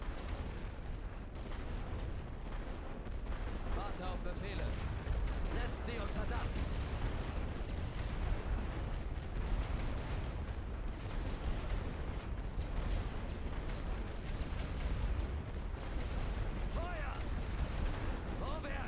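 Artillery fire in The Great War Western Front, a World War I video game, makes a dense, continuous rumble of distant booms and blasts. Voices seem to be mixed faintly into the din.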